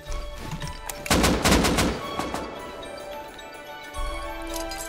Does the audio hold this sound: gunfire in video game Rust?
yes